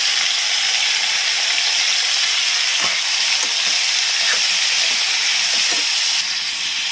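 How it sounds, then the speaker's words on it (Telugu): Tomatoes, seven of them, sizzle in a hot pan while cooking at home, a steady bright frying hiss throughout with faint stirring clicks and no talking. "ఇప్పుడు మనము టమాటాస్ యాడ్ చేసుకుందామండి."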